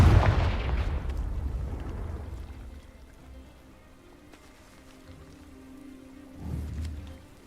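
Confringo fire blast spell in Hogwarts Legacy bursts with a loud, booming explosive whoosh that fades over a few seconds, followed by a second, softer rumbling blast near the end.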